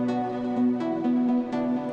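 A second synth lead carries a sustained, bright melody inside a beat, its notes shifting every half second or so over steady accompaniment with no talking.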